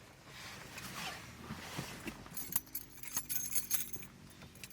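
Car keys jangle and clink in a close, quiet room, with a scatter of short metallic chinks bunched toward the end and no talking.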